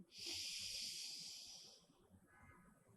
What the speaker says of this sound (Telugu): వెడమ నాసికం ద్వారా శ్వాసం తీసుకుంటూ